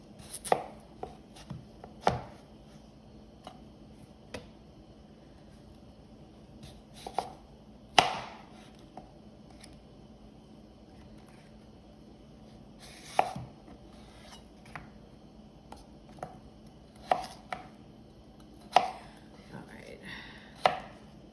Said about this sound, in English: I'm just cutting these in to about the same size.